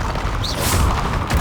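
The Bombarda explosion spell goes off in Hogwarts Legacy as a dense, loud magical blast with a deep booming body and a brief rising whoosh. It fills the short moment with no gap.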